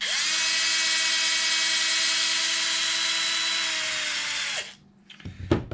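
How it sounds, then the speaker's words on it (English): Power tool backing bolts out of an Arrma Kraton EXB RC car's rear differential: a loud, steady high-pitched motor whine held for over four seconds, then winding down and stopping, followed by a few sharp clicks and clatters of small parts. "So I'm going to continue to take these bolts out."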